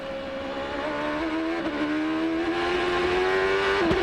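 A 2003 Champ Car race car screams past at speed during qualifying at Mid-Ohio, its high engine note climbing steadily through a gear, loud and close, with a sharp drop in pitch at the end as it passes.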